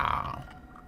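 Crunchy cookies being eaten close to a microphone, a brief loud crunching chew at the start that fades into quiet mouth sounds.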